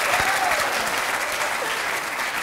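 A studio audience on a French television entertainment show applauds, giving a steady burst of clapping at moderate distance with a faint murmur of crowd voices.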